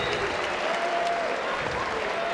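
A Copenhagen crowd at a fight event applauds steadily, a dense, even wash of clapping and crowd noise holding at one loud level throughout.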